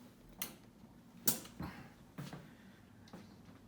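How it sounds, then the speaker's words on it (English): A dental treatment chair powers up and runs its automatic startup movements, giving a few separate mechanical clunks and creaks spaced about a second apart over a quiet background. "then turn on the mains isolator of the wall if you have one, or for the surgery if you would shut it down, and then power up your chair"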